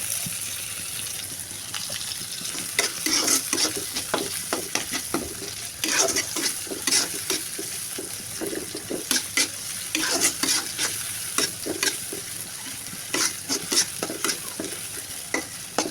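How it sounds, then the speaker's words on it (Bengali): Whole cardamom, cloves, cinnamon and other spices sizzle in hot oil for a duck curry, a steady close frying hiss broken by repeated scraping strokes of a spoon stirring the pan. "হালকা ভেজে নেব"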